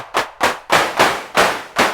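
Six synthesized drum-machine claps with a brighter tone and a longer, noisier decay, landing in an even pulse; each loud burst swells into a short washy tail before the next hit, alone and up close.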